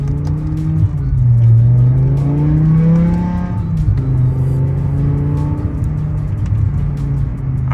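Steady low V10 exhaust drone from inside a moving BMW E60 M5, with the pitch rising and falling gently as it accelerates; no talking.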